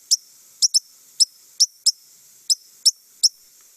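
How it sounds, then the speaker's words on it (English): Recorded ruby-crowned kinglet calls, a series of nine short, high, sharp notes, some in quick pairs, evenly loud and isolated with near silence between them. "And then this is a ruby-crowned king."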